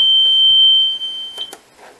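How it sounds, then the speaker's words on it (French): A single high, thin electronic alarm tone from a fire alarm panel sounds for about a second over quiet background, followed by a couple of faint clicks. "Et là j'ai une alarme."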